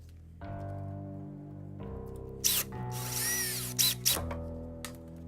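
Power drill boring holes through a carbon fiber rear diffuser on a BMW E92 335i, a steady close whine with harmonic bands that steps in pitch across several short bursts, punctuated by sharper bites as the bit cuts through.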